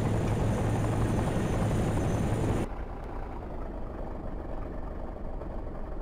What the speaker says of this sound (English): I park big transport helicopter that you can actually carry stuff in over here.